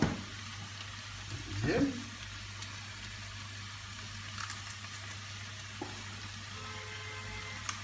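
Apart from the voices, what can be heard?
vegetables sweating in a pan with pressed garlic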